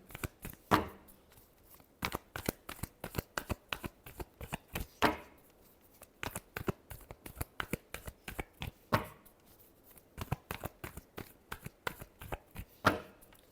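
Close, steady hand shuffling of a tarot deck: a long series of sharp card slaps and riffles in quick uneven bursts with brief gaps, no voices over it.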